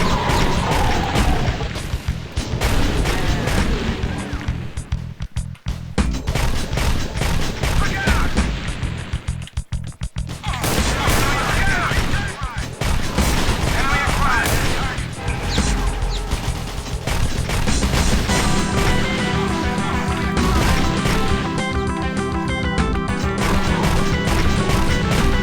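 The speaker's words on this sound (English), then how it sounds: "Repeater cannon, yep. Fires a little faster than the regular rocket launcher, eh?" Repeater cannon fire in the video game Doom, rapid booming shots and mechanical clanks repeating loudly over about twenty-five seconds amid game effects and music.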